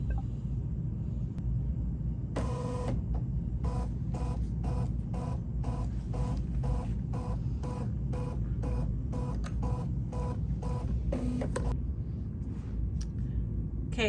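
A B 990 quilting machine scans a quilt on foam, giving a long run of rapid, evenly spaced mechanical clicks and whirs over a steady low motor hum, close and unaccompanied by talk.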